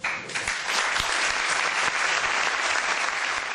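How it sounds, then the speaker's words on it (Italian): Applause from council members at an extraordinary session celebrating the 150th anniversary of Italian unification, following the national anthem: dense, sustained clapping that fills the room loudly and evenly for several seconds without a break. "i consiglieri riuniti in seduta straordinaria per celebrare il 150° anniversario dell'Unità d'Italia ascoltano in silenzio, poi l'applauso"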